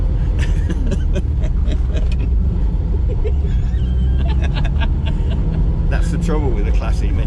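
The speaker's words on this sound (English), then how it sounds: "That's the trouble with a classic Mini. It's very difficult to drive it sensibly." A classic Mini car being driven hard, its engine rumbling loudly and steadily throughout as it revs, with people talking inside the car.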